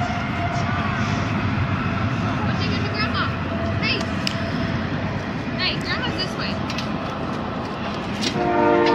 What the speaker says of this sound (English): There it is. It's a train.